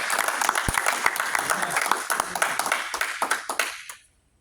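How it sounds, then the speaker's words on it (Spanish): A church congregation applauds, a sustained patter of many hands clapping with some sharper individual claps standing out, fading quickly to silence near the end. "Démosle un fuerte aplauso al Señor."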